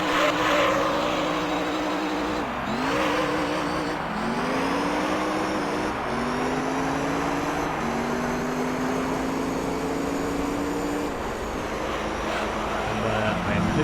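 A front-engine rear-drive race car in Gran Turismo 3 roars loudly and continuously, its engine pitch climbing through gears with repeated upshift dips, while a person talks over it.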